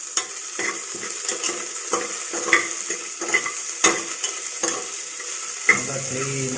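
Green chillies and ginger-garlic paste sizzle steadily in a pan while a spoon stirs them, with repeated scraping clinks against the metal at an irregular rhythm, close and fairly loud.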